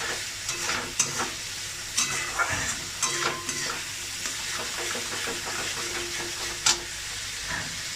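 Spice masala for khichuri fries in a pan with a constant close sizzle, as a spoon stirs and scrapes in irregular knocks roughly every second, one louder clack near the end; no voices.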